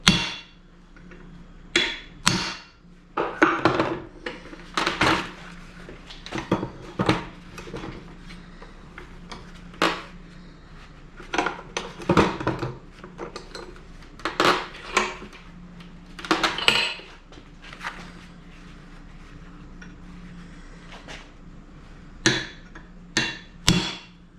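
Sharp, ringing hammer blows strike the rear axle of a 1966 Ford Mustang in a shop, coming in irregular bursts of several hits with short pauses between, close and loud.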